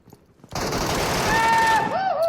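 Air gun fire in the video game PUBG Metro Royale: after a brief quiet start, a dense, continuous rattle of shots erupts and holds, with a rising electronic whine near the end.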